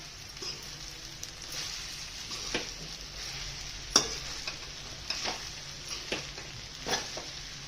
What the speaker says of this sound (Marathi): आता छानपैकी अशी खिचडी परतून घ्यायची